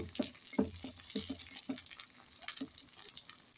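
Chettinad kara kuzhi paniyaram cook in a pan as each one is turned, with soft sizzling and a run of close, irregular taps and clicks.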